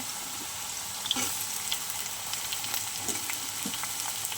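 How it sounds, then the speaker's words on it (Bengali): Onions and potatoes fry together in a pan for a fish curry, a steady close hiss of oil with a few light scrapes and taps from stirring, no one talking. "এখন আমি পেঁয়াজটা দিয়ে দেবো।"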